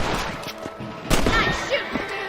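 Rifle shots at rabbits in Red Dead Redemption, several sharp gunshots in quick succession over outdoor game ambience, fairly loud and close, with a voice speaking briefly among them.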